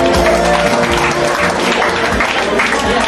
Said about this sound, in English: let's give a one round of applause for Call a Contest